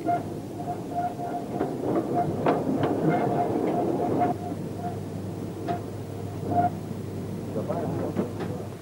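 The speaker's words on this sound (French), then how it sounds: "L'ascension du Mont Blanc commence en tramway." The Mont Blanc tramway runs on rails at the start of the ascent toward Nid d'Aigle, giving a steady low rumble with scattered rail clicks and clatter that carries on throughout.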